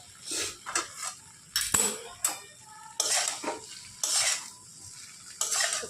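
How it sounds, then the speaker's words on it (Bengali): A kadai wok shifting and scraping on the stove while soybean chunks cook, sharp metallic clatters and scrapes in bursts with a faint sizzle underneath, no talk. "দেখেছো রান্না করতে গেলে এই কড়াটা সরে সরে যায়"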